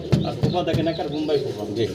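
Pigeons coo softly and repeatedly nearby in low, throaty murmurs, overlapping one another, with faint voices in the background.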